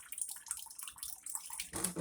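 Tap water runs steadily over pork chitterlings being rinsed and cleaned, a continuous close splashing hiss with small uneven spatters, growing fuller and heavier near the end.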